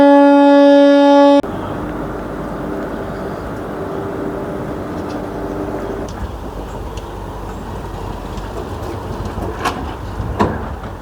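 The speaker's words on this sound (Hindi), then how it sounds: "जिस तरह अभी आपने पेंचवली एक्सप्रेस यहाँ से जाते हुए देखी" The Penchvalley Express passenger train rolls past on Indian railway track, a steady low rumble with occasional clanks and rattles building toward the end, heard from nearby after a brief tonal sound at the start.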